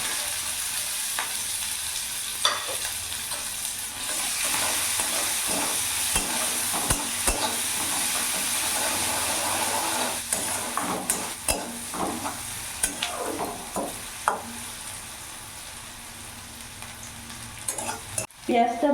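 A large chopped onion fries in oil with whole cumin and whole garam masala while being stirred for an egg curry. A continuous close sizzle carries scattered spatula scrapes and knocks, with sharper clatters near the end.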